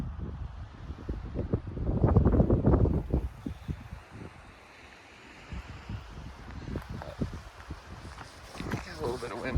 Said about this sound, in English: Got a little bit of wind up here